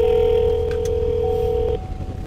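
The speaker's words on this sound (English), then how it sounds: "so I'm going to just call real quick" A phone call being placed, with steady electronic dialing tones and a held tone that cuts off abruptly, close and clear with no talking.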